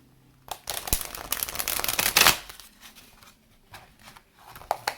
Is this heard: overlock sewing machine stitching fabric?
no